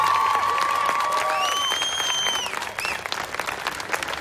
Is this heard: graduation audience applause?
yes